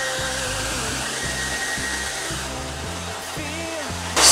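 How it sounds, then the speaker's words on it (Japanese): A hair dryer drying freshly straightened hair blows a loud, steady whir close by, its pitch wavering slightly as the airflow shifts, then surges louder at the very end; no voices. "では髪の毛乾かします。"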